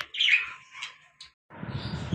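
A white American pigeon on a rooftop calls with a few short chirping notes, close and fairly clear, followed by a burst of broadband rustling or flapping.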